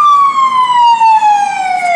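A fire truck siren wails loud and clear, a single long tone gliding slowly downward as it passes, with faint street rumble beneath.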